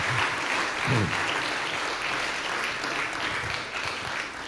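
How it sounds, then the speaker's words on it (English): A concert audience at a Sephardic music event applauds a cantorial music promoter, with steady, full clapping throughout and a brief low voice or murmur surfacing near the start. "let's give him a round of applause"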